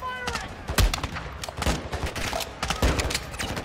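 Rapid bursts of gunfire crackle in Call of Duty: Modern Warfare II combat, several sharp shots and volleys popping over a dense battle din, loud and close.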